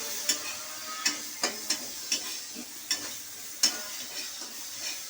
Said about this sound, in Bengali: দিয়ে একটু নেড়ে নিলাম হালকা করে